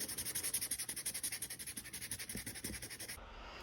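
Steady rhythmic rubbing of sandpaper over the edges of a wooden sign, repeated quick strokes at close range, with a high electronic whine running throughout.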